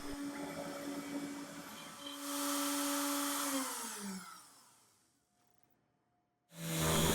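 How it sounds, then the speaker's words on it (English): A 3M Xtract 6-inch random orbital sander runs with a close, steady whir, rises to a louder buzz, then spins down with a falling pitch into near silence before starting up again at full speed. "This is a 3M Extract 6-inch random orbital sander that was new on the market a couple years ago."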